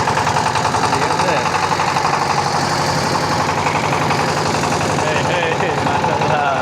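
A motor boat engine running steadily while the boat is driven, a loud continuous mid-pitched throb with a fine rhythmic pulsing; a voice talks over the engine.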